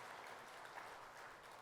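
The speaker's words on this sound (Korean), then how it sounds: "승리를 주신 하나님께 박수로 영광을 올려드리기를 원합니다." Church congregation clapping during a Sunday worship service, a soft, even wash of many hands heard from a distance, continuous and fairly faint for a brief moment.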